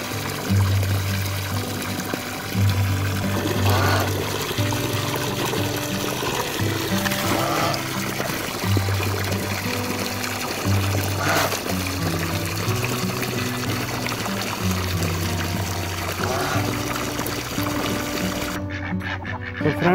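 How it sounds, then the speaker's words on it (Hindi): Water pours steadily into a tub for the whole stretch, a continuous splashing gush with a low mechanical hum underneath and no talking. "टब पे पानी हो गया फुल जी"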